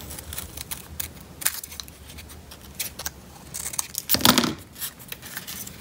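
Scissors cut through paper for a Christmas penguin card, close and uneven snips and crinkles with one louder rustle near the end, no voice.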